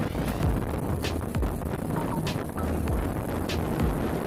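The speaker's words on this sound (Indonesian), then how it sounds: "Beginilah kecepatan speedboat Raja Wali Express" A Raja Wali Express passenger speedboat speeding across water, giving a steady, loud engine and hull roar with rushing water and wind buffeting the microphone, continuous throughout with no talk.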